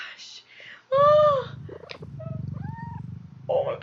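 A cat purrs in the video game CrossCode, a rumbling low purr running beneath a woman's speech, with a brief mewing sound and light chatter over it.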